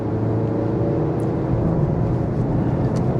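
A 2020 Mazda 2 Skyactiv G75 1.5 accelerating hard in third gear, a steady droning engine and road rumble heard from inside the cabin, continuous and fairly loud.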